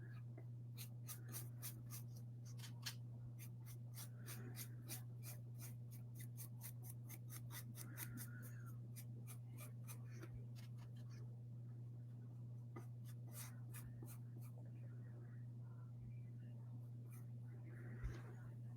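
A paintbrush dabs paint onto a Christmas nutcracker shaker in quick, dry, scratchy strokes that come in bursts, faint and close over a steady low electrical hum.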